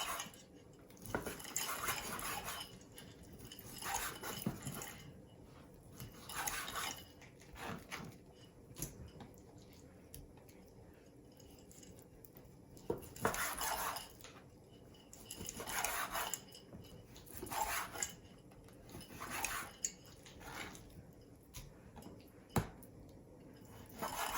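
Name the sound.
knife cutting steak into chunks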